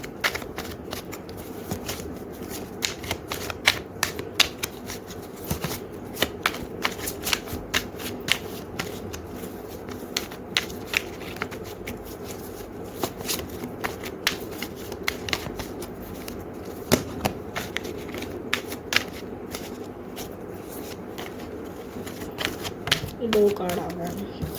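Tarot cards shuffled by hand in a steady run of crisp riffles and soft slaps throughout, with a person talking quietly over the card noise.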